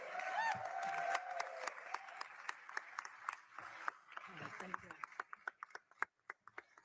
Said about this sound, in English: let's have one more round of applause for the governor